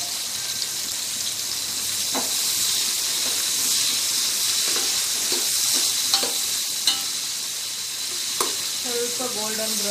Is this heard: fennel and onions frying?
yes